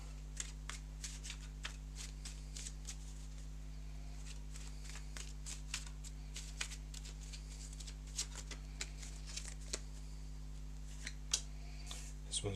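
Cards are shuffled during a live play test of the board game Realm of the Empress, a quiet series of papery riffles and snaps spread through the clip over a steady low electrical hum.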